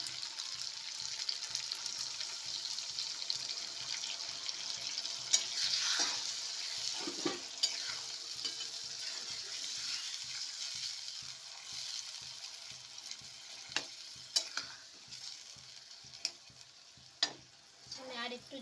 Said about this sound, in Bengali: এবার আমি মাংসতে জল দিয়ে